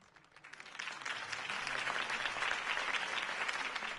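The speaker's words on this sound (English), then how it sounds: "If only Mr. Wayne, my campaign's largest backer, could have heard that applause" Sustained crowd applause in a Batman Telltale video game scene rises quickly and holds as a dense, steady wash of clapping with no speech.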